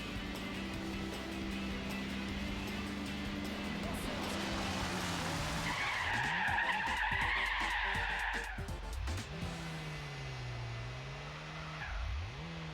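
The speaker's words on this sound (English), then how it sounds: "we're gonna rip the handbrake across the line" Gran Turismo 4 race car engine droning with shifting pitch, then a handbrake skid with squealing tires across the finish line before the engine revs again, a voice talking over it.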